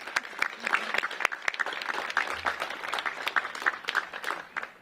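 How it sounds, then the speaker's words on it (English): An audience applauds the mayor at a one-year celebration for The Brooks short-term family housing, with steady, moderately loud clapping and a few sharper claps standing out throughout, plus faint voices underneath. "So I think we need to give the mayor a round of applause."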